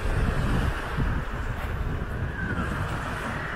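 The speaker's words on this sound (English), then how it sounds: "It's getting windier." Wind blows hard at a seaside spot in Moalboal, Cebu, in the Philippines. It makes a loud, steady rush of buffeting noise with no talking.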